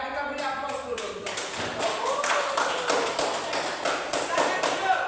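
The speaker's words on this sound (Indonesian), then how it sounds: "Ya, kita beri aplaus dulu." An audience claps steadily in a rapid, fairly even patter of hand claps that swells after the first second and runs to the end, with a voice faintly underneath.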